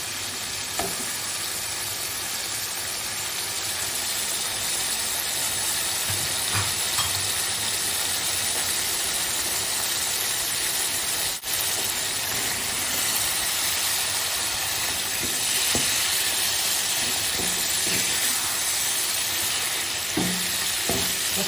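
Prawns fry in a thick spice masala for a prawn dopiaza curry, giving a steady, close sizzle with faint stirring scrapes throughout, no voices.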